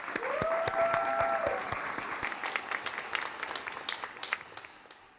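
A studio audience applauds the talk-show guests Jeremy and Jocelyn, dense clapping that starts loud and tapers off, with a whistle near the start and a few scattered cheers as it fades.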